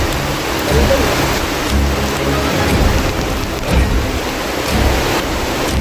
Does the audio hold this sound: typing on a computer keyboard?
no